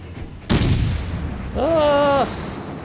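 A cruiser's guns in the naval battle game World of Warships Legends fire with a sharp, loud boom that rolls into a rumbling tail, followed by a brief tonal whine-like effect.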